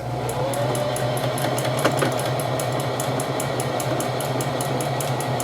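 A serger runs steadily over knit fabric, a fast rhythmic mechanical whir with regular ticking needle strokes, close and continuous throughout with no voices.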